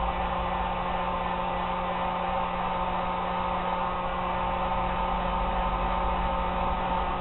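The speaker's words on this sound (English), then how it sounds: "so we turn the heat gun on" A heat gun running steadily on a tricopter build bench: a constant, even blowing hum with a low electrical drone, unchanging throughout and without talk.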